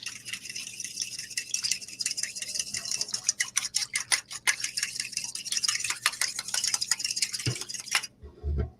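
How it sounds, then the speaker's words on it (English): Whisk rattling and clicking quickly in a bowl while mixing a dressing made with Dijon mustard, a steady busy scraping that stops abruptly near the end, followed by a couple of soft thumps. "And we're going in and giving it a good mix."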